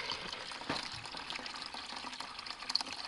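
Water is poured into a container early in the morning on a farm, a soft splashing trickle heard close up and fairly quiet, with no voices.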